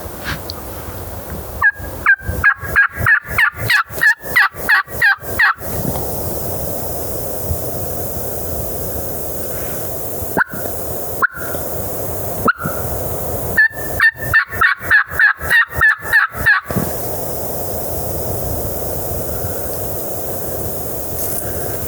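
A wild turkey in South Dakota hunting country answers with loud, close, rhythmic bursts of gobbling and yelping in two long runs, with a few isolated calls between them.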